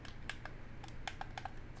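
Soft keyboard typing in the video game Jenny LeClue: a handful of separate light key clicks spread irregularly across a couple of seconds over a steady low hum, no voices.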